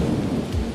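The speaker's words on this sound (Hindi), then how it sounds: "और सचमुच बारिश का पानी छतरी पर से होता हुआ एक तरफ तालाब और दूसरी तरफ नहर में गिरता रहा।" Rain pours with rolling thunder in a Hindi cartoon story, a dense, loud, continuous rumble and hiss that lasts the whole short stretch with no voices.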